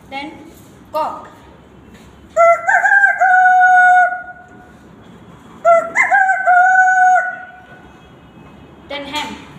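A person imitates a rooster crowing twice, each a loud, drawn-out cock-a-doodle-doo, with short breathy sounds before and after.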